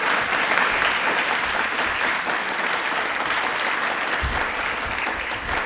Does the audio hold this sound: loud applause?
yes